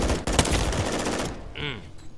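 Rapid automatic gunfire from a weapon in a first-person shooter game, a dense burst of shots followed by a short ringing, whistling tail as the firing stops.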